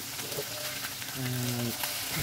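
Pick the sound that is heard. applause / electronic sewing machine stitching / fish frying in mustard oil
fish frying in mustard oil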